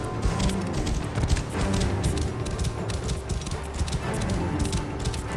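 Galloping horse hooves in the video game Assassin's Creed Origins on a farm mission, a steady rapid clip-clop pounding continuously and fairly loud under a dense layer of game ambience and music.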